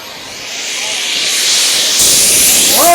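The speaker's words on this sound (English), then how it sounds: "While this engine is turning over right now, the sound you are hearing" A King Tech turbine in a radio-controlled jet airplane, idling at 60,000 RPM, spools up at an outdoor hot air balloon festival, its hissing whine rising steadily and growing louder and closer.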